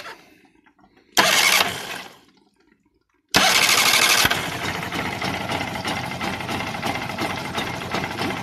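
An outboard boat engine with a faulty CDI ignition module replaced by a substitute coughs briefly and fades, then after a pause starts and keeps running with a loud, steady, close roar.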